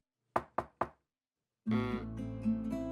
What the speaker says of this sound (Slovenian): Bibi in Pika sta splezala na drevo in potrkala pri sraki.